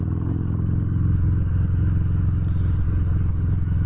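A 2019 Harley-Davidson Fat Bob 114 with aftermarket intake and exhaust, riding along with a steady, loud, deep V-twin engine and exhaust rumble that fills the whole stretch without letup.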